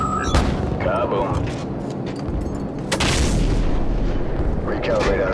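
Booming cannon fire from an AC-130 gunship in Call of Duty 4, heavy rumbling blasts under a constant engine drone, with radio chatter talking over them.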